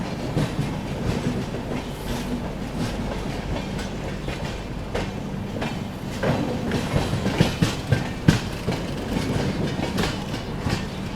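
A passenger train, the Chennai Express, rumbles steadily into Karjat railway station with rhythmic clickety-clack of wheels over rail joints, growing slightly louder near the end as it rolls in.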